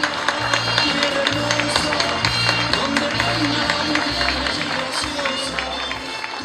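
An audience applauds at a municipal inauguration ceremony for an urban regeneration project, with steady, sustained clapping mixed with crowd noise and a voice talking over it.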